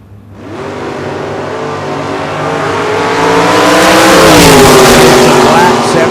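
A black 1975 Camaro and an orange flame-painted 1969 Camaro launch at a drag strip, engines roaring loud and climbing steadily in pitch as they accelerate, with an announcer talking over the noise.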